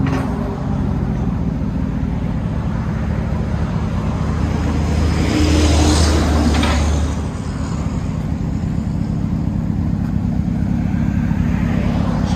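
A Chevy Suburban with a 5.3L V8 and Dynomax Race Bullet exhaust idles with a loud, steady, deep rumble that rises briefly in a rev before settling back, close and alone.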